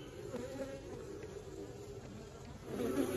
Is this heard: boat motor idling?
no